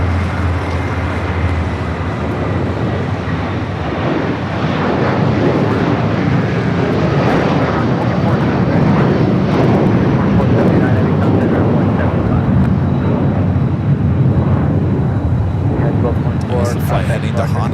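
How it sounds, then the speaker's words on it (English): A Boeing 757-300 bound for Honolulu at LAX produces a strong, sustained jet rumble that builds slightly and stays dense and loud, with a voice talking over parts of it. "Heading to Honolulu, and that's 757-300."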